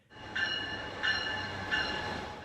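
A Brightline high-speed passenger train runs on rails between Miami and Orlando with a steady rolling rumble. Three evenly spaced, bright, ringing squeals from the rails rise above the rumble. No one speaks.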